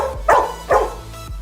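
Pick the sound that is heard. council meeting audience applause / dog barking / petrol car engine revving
dog barking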